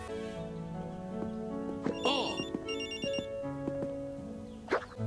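A telephone ringtone in the video game Manor Matters plays as a bright repeating electronic melody, clear and close, with a short horse-like whinny effect near the end and no talking.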